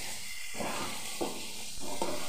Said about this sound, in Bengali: এক মিনিট নাড়াচাড়া করে নেব।